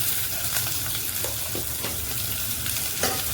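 Onions sizzle in hot oil with mustard seeds, cumin and curry leaves, a steady loud frying hiss broken by occasional crackles and stirring scrapes, with no talking.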